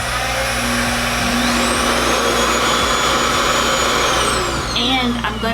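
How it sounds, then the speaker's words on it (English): A RevAir hair dryer runs on speed setting 2, giving a loud, steady, close whooshing roar of suction and motor hum that holds constant throughout, with a slight change near the end. "we are going to go ahead and see how this RevAir works"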